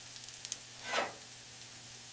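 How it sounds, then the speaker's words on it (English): Hoe cake batter drops into a hot greased skillet and gives one brief, soft hiss of sizzling, faint and close, with small clicks before and after. "You dropped the batter into a hot, greased skillet. It hit the pan with a hiss and crisped at the edges"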